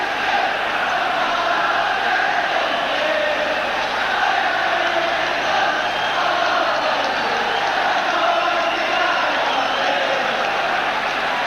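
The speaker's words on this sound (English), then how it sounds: "Marvellous crowd here tonight." A large football stadium crowd at an Ajax versus Celtic match roars in a continuous, dense wash of cheering and chatter, loud and sustained with no breaks, heard at a distance from the stands.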